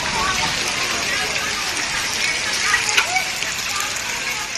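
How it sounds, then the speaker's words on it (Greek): Heavy rain falls in Heraklion, Crete, a dense steady hiss of downpour with a few brief splashes, continuous and fairly loud throughout. "Την ώρα που άρχισε η βροχή"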